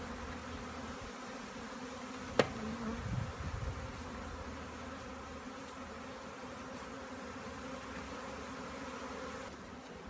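A spring honeybee swarm hums continuously, a dense steady buzzing drone of many bees heard at moderate level throughout, with one brief knock early on and no talk.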